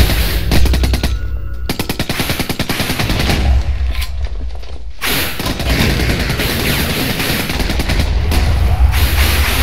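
Sustained rapid automatic fire from an MP5 in Minecraft, loud and close, with dense bursts of shots running almost continuously and brief gaps between volleys.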